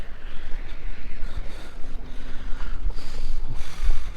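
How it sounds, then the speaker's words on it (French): Strong wind blows outdoors against the microphone beside a boat, producing a steady, loud rumbling buffet with gusty surges throughout and no voices. "Il y a carrément plus de vent dehors, du coup je sais pas si tu vas tout entendre."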